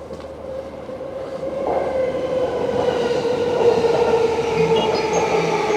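A Yamanote Line train runs at a Tokyo station platform heading toward Shinagawa, with loud, close rail rumble and a rising whine as it moves, steady throughout without speech.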